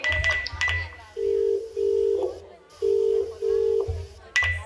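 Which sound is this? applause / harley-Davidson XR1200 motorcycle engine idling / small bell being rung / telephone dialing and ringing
telephone dialing and ringing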